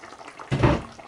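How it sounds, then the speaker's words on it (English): Lamb chop stew bubbling in a cooking pot, heard as a short, fairly loud burst of liquid gurgling that rises and fades within a fraction of a second. "see how that's bubbling up nicely now"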